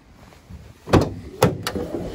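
Rear doors of a Mercedes Metris van swinging open, a sequence of close, sharp latch clunks and thumps, three distinct impacts within about a second, no talking over them.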